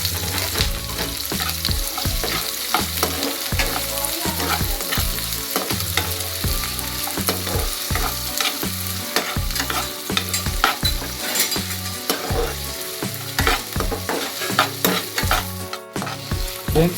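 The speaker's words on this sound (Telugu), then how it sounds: "మన ఆనియన్స్ వచ్చేసి కొంచెం కలర్ వచ్చేదాకా ఉడికించాలి. ఫ్రై చేయాలి." Onions and chillies sizzle steadily in a pan for a masala pasta, with constant loud frying and repeated scraping and clinking of a spoon stirring throughout, and no voices.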